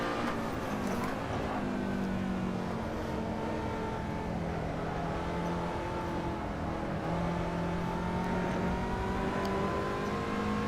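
Lotus 2-Eleven in Assetto Corsa lapping Silverstone International, its engine droning steadily at high revs throughout, with pitch rising and dipping through gear changes, loud and continuous.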